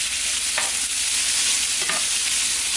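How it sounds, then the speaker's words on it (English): Chopped onion frying in meat drippings in a pot for charro beans, making a loud dense sizzle throughout with a couple of soft stirring scrapes, close up and without talk. "Here, I'm going to add in a 1/2 cup of chopped onion."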